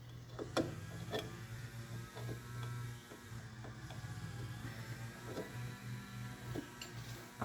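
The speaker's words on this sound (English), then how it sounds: "I'm going to slip the brake adjuster back in." A Triumph Spitfire rear brake adjuster is slipped back into place with scattered metallic clicks and light knocks, close by, over a steady low mechanical hum.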